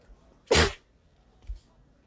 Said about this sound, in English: Whoops, I sneezed.